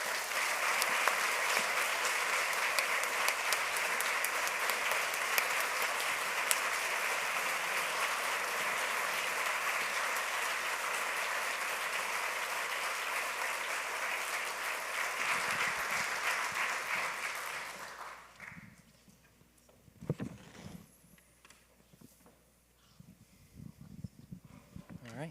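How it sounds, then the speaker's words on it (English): An audience at an artist's talk bursts into sustained applause that holds loud and even for about eighteen seconds, then cuts off, leaving a quiet room with brief scattered sounds. "Please give a round of applause."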